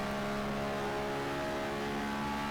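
A race car engine holds a steady, droning roar in fourth gear as the driver gets back on the throttle through a corner, loud and continuous with a strong low hum, no talk.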